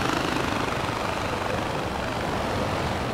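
Helicopter in the Far Cry 4 video game, a loud continuous rotor thrum and engine roar with steady chopping pulses, close and unbroken.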